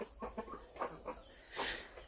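Hens cluck softly in short bursts as a rooster mounts a hen, then a louder squawk near the end, set against faint farmyard background noise.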